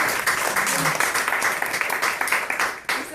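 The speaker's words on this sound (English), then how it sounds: "We all clap again because" Audience applause at an evening storytelling reading, with dense, lively clapping from a small crowd close by for about three seconds, a few cheers and voices mixed in.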